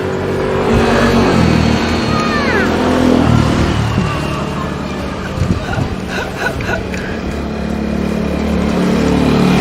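A small motorbike ridden by a child passes close by on a road near Bayang Sani Waterfall, its engine droning and revving steadily under people chatting.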